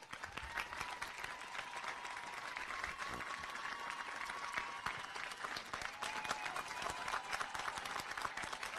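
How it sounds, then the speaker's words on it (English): Graduation audience applauding steadily, a dense, continuous wash of many hands clapping throughout, fairly distant in a large hall with a faint tonal hum underneath. "If we can all stand and give them a round of applause, they deserve it."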